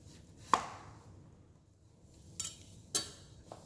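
A knife cutting through zucchini on a cutting board: four sharp, separate chopping knocks spaced over a few seconds, close and clear against a quiet room.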